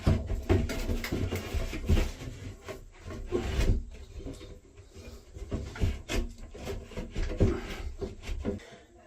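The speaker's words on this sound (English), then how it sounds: "it's time to just slide this whole kind of fan box into the ceiling" A bathroom fan box being slid up into a ceiling opening during a fan upgrade, making close, irregular rubbing and scraping bursts of housing against wood, with brief knocks and no talk.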